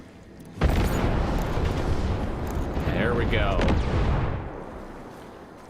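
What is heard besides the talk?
explosions like fireworks in Ghost Recon Breakpoint video game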